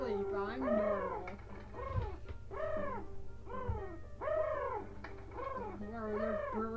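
Pigeons in The Hunchback of Notre Dame animated film coo in a steady, repeated rhythm. The calls are moderately close, with soft thumps underneath.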